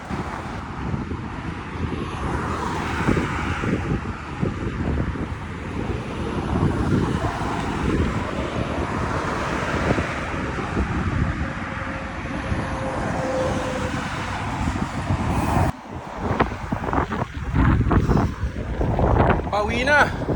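Strong wind buffets the microphone in continuous gusty roaring, with a steady engine-like drone underneath and a brief dropout before gusting resumes.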